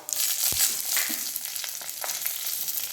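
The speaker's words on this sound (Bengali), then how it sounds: "এবার ওই তেলের মধ্যে আমি তেজপাতা দিয়ে দিচ্ছি পাঁচ ফোড়ন দিয়ে দিচ্ছি কাঁচা লঙ্কা" Bay leaf, panch phoron spice mix and green chilli hit hot oil and fry with a steady crackling sizzle, plus a few sharp pops and stirring clicks, up close and without speech.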